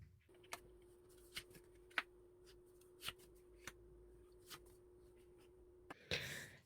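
Tarot cards are drawn and handled softly, a series of faint, sharp card snaps and slides spaced a second or so apart over a quiet steady hum, ending in a brief rustle.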